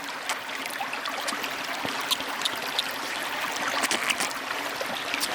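River water flows and trickles steadily near a wooded area in Llangammarch Wells, a continuous broadband rush with small splashes and gurgles throughout, close and fairly loud, with no talking.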